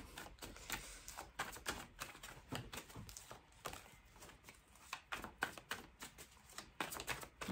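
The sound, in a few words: shuffling tarot cards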